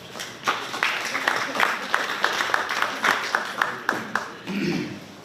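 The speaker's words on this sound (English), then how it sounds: "again in the round of applause." Applause from the audience at a formal Asian Development Bank meeting on a road infrastructure project: moderate, fairly rhythmic clapping that runs steadily for about five seconds, with a brief murmur near the end.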